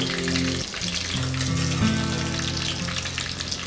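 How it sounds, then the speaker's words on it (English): Steady hot-oil sizzling and crackling from chicken nuggets frying in a pan, close and continuous, with faint low tones of a kitchen appliance underneath. "Now while the second batch is frying"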